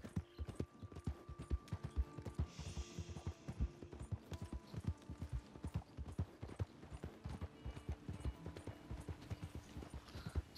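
Hooves of a galloping horse in Red Dead Redemption 2, a steady fast clip-clop rhythm that runs throughout, fairly quiet, with brief tack or gear noises and no voices.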